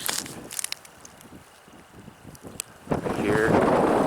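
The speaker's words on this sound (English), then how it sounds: "sorry about the wind" Wind buffets the microphone in gusts, rumbling low and loud, building to a heavy roar near the end with some faint background sound.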